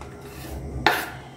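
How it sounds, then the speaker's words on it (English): Chopped carrots for a salad tumble into a bowl in one sudden clattering rush that tails off into a brief rustle, close by, after a quiet stretch with no talking. "So the next step is to put your carrots,"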